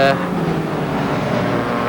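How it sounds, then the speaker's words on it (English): A 1980s Alfa Romeo sports car races past on the Killarney circuit in Cape Town during a historic handicap race, its engine a loud, close roar that sweeps by over about two seconds. "here comes the Alfa just behind"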